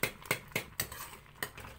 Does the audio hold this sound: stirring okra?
yes